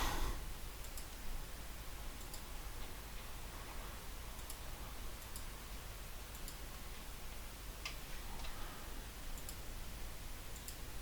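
Sharp, isolated computer mouse clicks while working in Fusion 360 CAD software, a handful of quiet taps spaced irregularly over a low steady hiss, close and alone with no talk.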